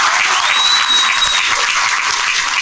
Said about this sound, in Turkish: Bir alkış daha olun.